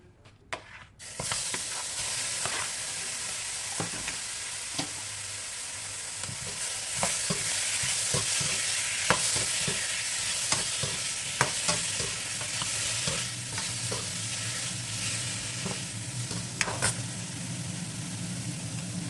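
Steady loud sizzling of chicken stir-frying in a hot pan, with scraping and clatter of a utensil tossing the food throughout.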